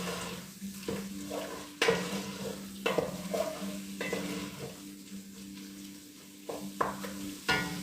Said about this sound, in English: I'll give this a little bit to fry once you add your flour.